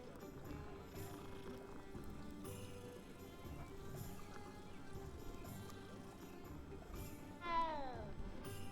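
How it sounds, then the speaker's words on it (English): A cat in the Hogwarts Legacy video game gives a single short meow late on, rising clearly above a quiet bed of game ambience and soft background music. "cat"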